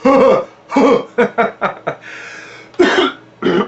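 A string of short, sharp coughing bursts and gulping catches, close and loud, spaced unevenly with brief pauses between them.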